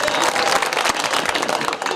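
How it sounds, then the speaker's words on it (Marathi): An audience at a kirtan claps along in a dense, continuous patter of hand claps, steady and fairly loud throughout, with a crowd murmur underneath. "टाळी वाजवा टाळी"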